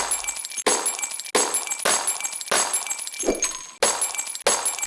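Repeated glass-shattering effect in a video game, roughly seven loud, close crashes in quick succession, each a sharp impact followed by bright, crunchy, tinkling shards, with a brief thunk partway through.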